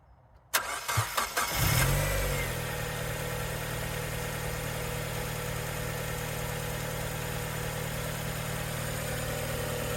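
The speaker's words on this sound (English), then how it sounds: "I'll give the car a start" A £500 Mazda MX-5 engine cranks with a few quick starter bursts, catches, and settles into a steady, loud idle that runs alone and unbroken for the rest of the stretch.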